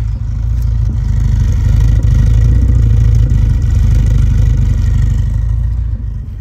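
A classic 1275cc Mini engine runs loud and close with a deep, rumbling throb, holding a steady rev with slight clattering.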